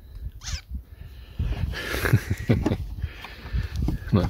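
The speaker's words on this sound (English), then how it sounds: "Look, neighbour's cat has come to say hello." A neighbour's cat calls out nearby, a brief rising meow near the start followed by soft vocal sounds and rustling close to the listener.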